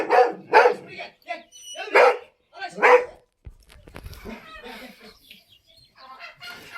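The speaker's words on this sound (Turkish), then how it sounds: "orada köpekleri gördü onlara kızıyor." A dog barks several times in quick bursts at other dogs in a village, with chickens clucking in the background and people talking nearby.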